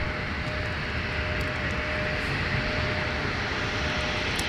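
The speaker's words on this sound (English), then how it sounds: "Let's get a nice close-up look at that touchdown from American Airlines." An American Airlines jet touches down at Minneapolis airport in winter, its engines giving a dense, loud, continuous roar and rush with a faint steady tone running through it.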